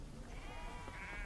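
A sheep on ranch land lets out a wavering bleat, one sustained quavering call heard fairly faintly against low background noise.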